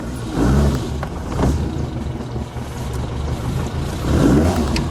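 A rare 1965 ASA 1000 GT Spider engine pulls away close up, the mid-pitched motor revving and surging through the gears with a steady rumble that swells and eases across the run.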